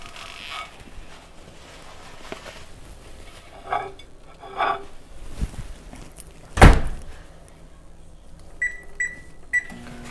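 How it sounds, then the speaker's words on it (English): A microwave oven heating gumbo hums steadily while a door creaks, a sharp thunk lands mid-way, and three short electronic beeps sound near the end. "I'm gonna have to get this out of the microwave."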